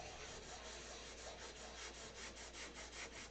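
Steady rhythmic rubbing strokes of sanding a Big Tucker 600, a soft broadband scratch repeating back and forth, close and fairly quiet, with no voices.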